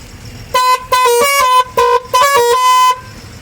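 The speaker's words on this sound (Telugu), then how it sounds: "మనోడైతే హారన్ చెక్ చేస్తున్నాడు," A 12-tyre, 32-foot lorry's multi-tone horn being tested at a loading point beside an old road: four loud, close musical blasts of varying length, each shifting through different pitches, with short gaps between them.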